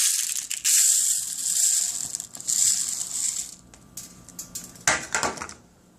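Dry uncooked rice grains rattle and patter as they are poured into a cup in uneven streams, ending with a final clattering pour.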